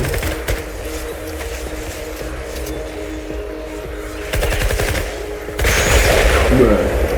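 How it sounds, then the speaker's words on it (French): A minigun fires in Fortnite, a rapid rattling stream of gunfire over game ambience that intensifies in the second half, with a voice talking beneath. "C'est un minigun."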